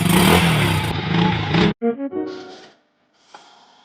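A Rossi 110 motorcycle engine running after a new ignition switch is fitted, loud close revving for under two seconds, then cut off abruptly, followed by a few short sputters and quiet clatter.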